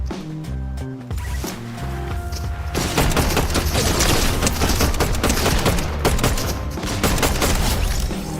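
Video game shotgun fire: after a brief musical passage, loud, dense repeated blasts and booming gunfire fill the rest of the stretch, close and continuous.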